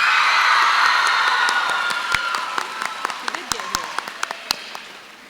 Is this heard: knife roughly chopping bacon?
no